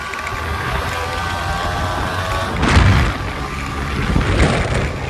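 A Yamaha RX 135 two-stroke motorcycle on the move, with a continuous buzzing engine drone and wind rush close by that swells briefly midway.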